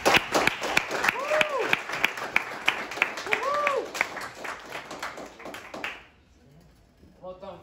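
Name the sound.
audience applause at trading event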